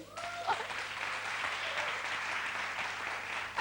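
Studio audience applause on a 1993 Turkish game show, a steady broadband clapping that swells in right away and holds loud and even for several seconds, with faint voices underneath at the start.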